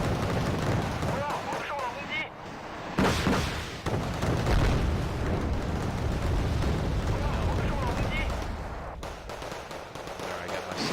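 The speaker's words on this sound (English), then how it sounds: "Bombs coming in, rockets going down in the background." Dense, continuous battlefield din from the Cold War strategy game Wargame: Red Dragon, with bombs and rockets going off in the background as a steady rumbling barrage with heavier blasts near three and nine seconds, while someone talks over it.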